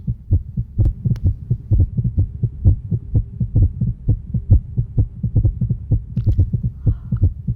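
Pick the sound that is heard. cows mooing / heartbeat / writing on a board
heartbeat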